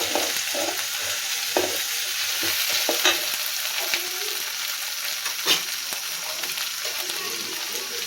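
Eggplant being sautéed with ginger-garlic paste for a masala, a bright steady sizzle with repeated spatula scrapes and clicks across the whole stretch, up close.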